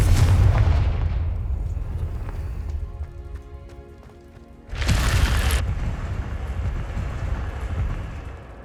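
A Confringo spell cast in Hogwarts Legacy, a heavy rumbling burst followed by a crackling fiery tail, then a second bright blast a few seconds later, loud and near with no talking.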